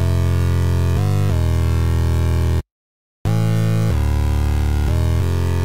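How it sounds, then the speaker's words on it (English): A buzzy, sustained synth bass line repeats in a loop, loud and steady, dropping out for a short gap midway before returning. "Let's actually listen to this bass loop right here."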